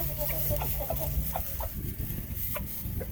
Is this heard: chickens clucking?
yes